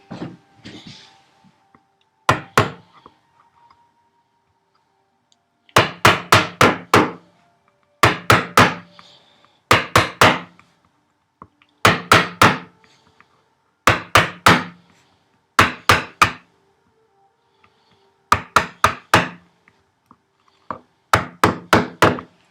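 A chisel is struck repeatedly with a mallet, chopping housing dados into a wooden workbench. Sharp wooden thwacks come in tight bursts of three to five blows, separated by brief pauses, loud and close.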